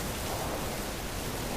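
Steady rain falling in the video game Three Fourths Home, a dense, even hiss with no distinct drops, holding constant throughout with no talk.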